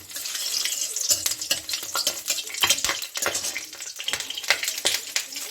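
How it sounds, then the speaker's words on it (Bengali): Crushed garlic dropped into hot oil, a loud, close crackling sizzle with bursts of spattering and stirring, fairly continuous over a few seconds. "আমার তেলটা গরম হয়েছে আমি একটু রসুন থেতো করে ফোড়নে দিয়েছি"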